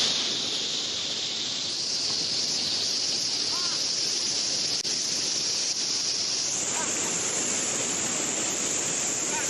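Strong flood current of the Cimandiri River in a flash flood, a loud, continuous rushing roar of churning water that holds steady throughout and swells slightly toward the end.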